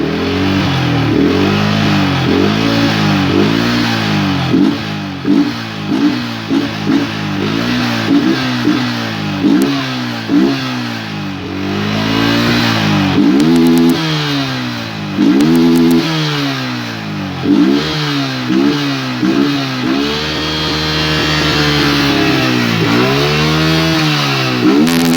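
A ported Yamaha Vixion motorcycle engine revved repeatedly in short, sharp blips, rising and falling in pitch with an uneven rhythm, close and loud with no talking.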